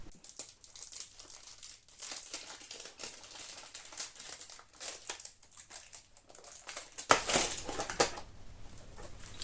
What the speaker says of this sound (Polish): Uwaga teraz dla tych, którzy nie lubią hałasu otwieranego celofanu.